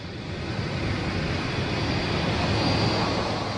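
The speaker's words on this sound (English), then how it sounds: "Air France's Paris-bound Concorde departure is already negotiating the web of complex taxiways at Kennedy" An Air France Concorde on the way to Paris taxis along the taxiways at Kennedy airport, heard as a steady, continuous jet engine roar at moderate distance, with no talking.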